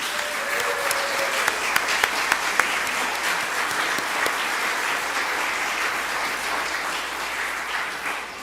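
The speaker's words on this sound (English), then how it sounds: "So let's show Tom some love by clapping." A church congregation claps for a member's birthday during Sunday service, a steady, dense wave of applause lasting several seconds with a few sharper claps standing out early.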